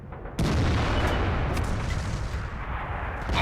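A Bat. Chatillon 155 58 tank destroyer fires its artillery gun in World of Tanks, one sudden heavy boom that rolls into a long rumbling decay, with no one talking.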